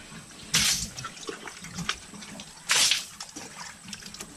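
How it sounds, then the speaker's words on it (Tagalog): Water splashes out in two short pouring bursts into a pig pen, a couple of seconds apart, with faint trickling and dripping between them. "kakakutin niya dun yung tubig para ibuhos dun sa koral ng baboy"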